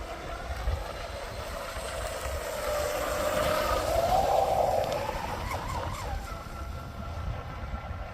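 A boat with a fiberglass and carbon fiber hull runs its motor continuously with the prop blasting water, making a steady droning rush with a brief rising whine near the middle, moderately distant and unbroken throughout.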